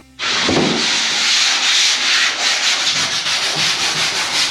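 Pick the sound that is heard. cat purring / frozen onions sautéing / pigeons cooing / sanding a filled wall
sanding a filled wall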